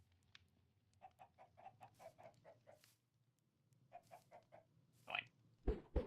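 Short chirpy peeps from a baby chicken in Minecraft, in two quick bursts of rapid repeated calls over a low background hum, ending with a couple of sharper clicks.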